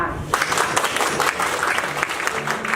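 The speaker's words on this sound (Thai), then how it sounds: "ขอเสียงปรบมือต้อนรับ แขกรับเชิญพิเศษท่านนี้ค่ะ" An audience at a World Autism Awareness Day event in Thailand claps to welcome a special guest, a short burst of brisk, moderately loud applause with faint voices beneath.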